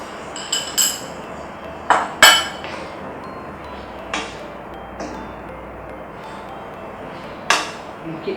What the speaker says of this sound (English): You keep stirring until the sauce is thickened.